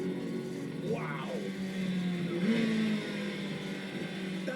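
A Corvette ZR1 sports car accelerates hard nearby, its engine note climbing in a sweeping rise and then surging again, loud and continuous over a steady road roar.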